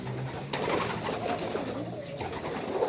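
Pigeons coo softly at a small backyard poultry farm, a few low, throaty calls rising at intervals over light ambient noise.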